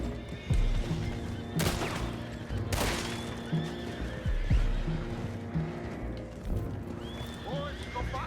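Horses in Red Dead Redemption 2 whinny and neigh amid game sounds, with a few thudding hoof impacts and sharp bursts, while voices talk faintly underneath.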